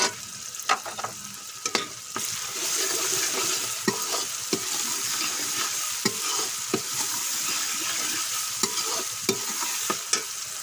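Turmeric, salt and red chilli being fried and stirred in a pan for taro (arvi) curry: a continuous sizzle broken by frequent sharp spoon scrapes and knocks against the pan, close and alone without talk.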